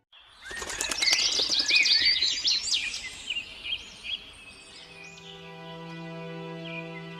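A bird in an animated story flutters its wings and chirps rapidly at the start, then the bright calls thin out into sparse tweets over a soft, sustained musical tone.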